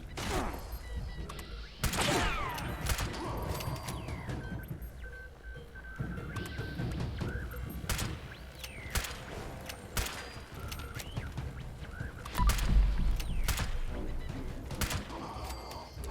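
Gunfire in Fallout 76 rattles through the scene in repeated sharp bursts and single shots, some near and some distant, mixed with clanking game mechanisms and impacts over more than sixteen seconds.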